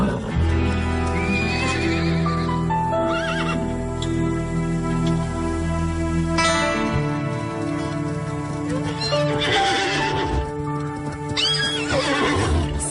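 A horse whinnies loudly and at length, then hooves clip-clop at a fast galloping rhythm, followed by another shrill neigh, all close and with no talking, set over a dense backing soundtrack.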